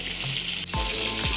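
Fish frying in a pan on a home stove gives a close, loud, continuous sizzle, with a brief clatter and shift in tone partway as it is moved or stirred.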